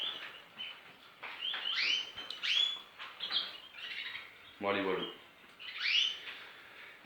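Young canaries chirping at close range, repeated bright tweets and short calls, with someone speaking briefly in between.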